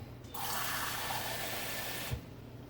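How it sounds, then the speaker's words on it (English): A cup of water is poured into crumbled enchilada dough mix, giving one quiet, steady pour of about two seconds with nothing else heard. "now I'm going to add my cup of water"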